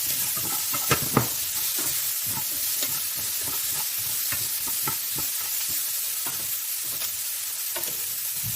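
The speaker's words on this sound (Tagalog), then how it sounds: "Then I fry with tomato as well." Lamb chunks frying with tomato in a pan: a close, continuous sizzle broken by repeated scraping stirs at an uneven rhythm.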